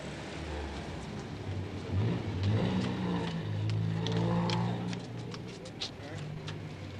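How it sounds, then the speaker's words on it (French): Mid-1960s city street traffic in Le Mans, several cars driving side by side with engines rumbling and revving, a steady moderate wash of motor noise with faint bird calls above it. "Voyez la circulation, les transports en commun. Plusieurs voitures y roulent de front."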